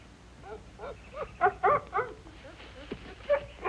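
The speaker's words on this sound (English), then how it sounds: "They're really very nice dogs, you see." Dogs in a vintage Disney short yelp, whimper and give short barks in a quick uneven series, fairly close and moderately loud over a quiet background.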